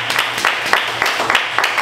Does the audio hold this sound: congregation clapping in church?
yes